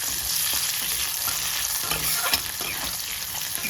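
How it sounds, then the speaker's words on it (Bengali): Small cut potato pieces with salt and turmeric frying in hot mustard oil, a steady close-up sizzle with occasional stirring scrapes. "লাল লাল করে আলু ভাজা হচ্ছে"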